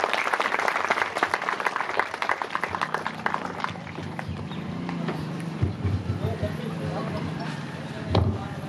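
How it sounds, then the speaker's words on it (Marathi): Audience clapping at a public talk event fills the room, loud and dense at first, then thinning into scattered claps with a voice murmuring beneath and a sharp burst near the end. "सर्वांनी प्लीज टाळ्या वाजवा."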